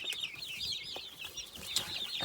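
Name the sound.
chickens clucking in a brooder, Jersey Giant breed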